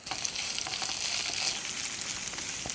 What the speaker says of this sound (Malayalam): ഇനി അരിഞ്ഞ് വെച്ചിട്ടുള്ള വലിയ ഉള്ളിയും കൂടി ഉണ്ട് ചേർത്ത് കൊടുക്കുക